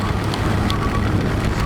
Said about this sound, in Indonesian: Awet banget hujannya.